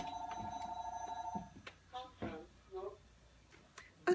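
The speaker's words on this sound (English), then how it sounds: "Why do my mother have this loud phone answer machine?" A loud home phone answering machine ringing, with steady repeated tones for about a second and a half, then a voice talking nearby.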